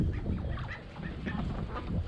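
Farmyard ducks quacking and honking continuously at close range, several birds calling over one another in a busy, overlapping chorus with no talk.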